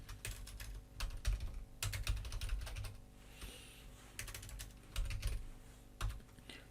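Typing on a computer keyboard while entering text in Canva, clusters of quick, close key clacks in bursts separated by short pauses, with no talking.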